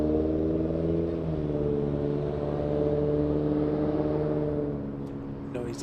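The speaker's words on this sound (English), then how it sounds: "No mufflers on that one." An unmuffled car drives past an airport viewing spot near LAX, its engine a steady low rumble with a mild rise in pitch partway through. It plays beneath a continuous broadband hum.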